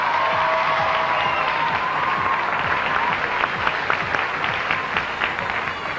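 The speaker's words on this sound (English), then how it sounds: "please give these 10 women a absolutely raucous round of applause" A large audience at the 2002 Miss Illinois beauty pageant applauds steadily for the ten contestants, a dense, sustained wash of clapping with some cheering that swells slightly toward the end.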